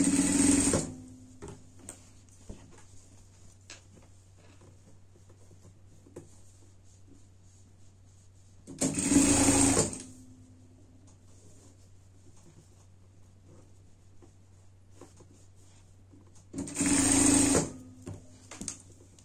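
A sewing machine stitches fabric wrapped over foam for a camping bed, running in three loud bursts of rapid, steady whirring separated by long quiet pauses with a low hum beneath.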